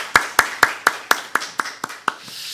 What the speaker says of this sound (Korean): 살아계신 우리 하나님께만 감사와 찬양의 박수 드리기 원합니다